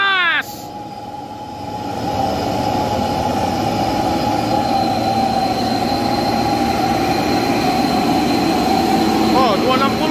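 A heavily loaded Hino truck on a soft, muddy road revs its engine hard and holds a loud, steady, droning roar, with a brief harsh onset before the sustained rumble.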